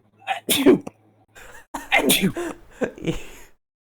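A single sharp, close sneeze with a gasping intake before it, followed by brief vocal sounds and breathy noises afterward.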